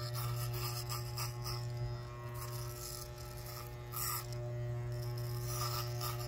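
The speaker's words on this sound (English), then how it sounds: "We're just shaving the sides." Electric hair clippers shave the sides of a head outdoors in a front yard, a steady close buzzing drone running without pause throughout.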